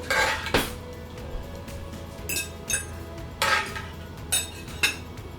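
A fork and knife clink against dishes in several sharp, separate metallic taps spread over a few seconds, close by, over a quiet room background.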